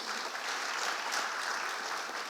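Audience applause at a business summit in Ghana, dense continuous clapping from a crowd, moderately distant and even throughout the short stretch, with no speech over it.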